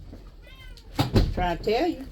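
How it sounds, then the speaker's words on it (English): A pet cat meows several times nearby, drawn-out and wavering, while someone talks over it. "Oh, I'm sorry, that's my cat."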